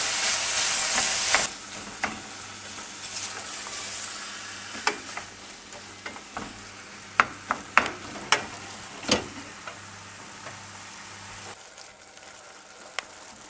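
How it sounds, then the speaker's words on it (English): Mince breaking up and browning in a pan for chilli con carne, a soft steady sizzle with a louder hiss at the start, broken by sharp scraping and tapping strokes of a utensil against the pan. "And we'll just break up the mince and brown it."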